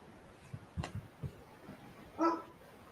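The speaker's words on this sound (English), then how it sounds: "There's a dog noise." A single dog gives a couple of faint, distant barks and a short yip, heard alone in an otherwise quiet indoor room.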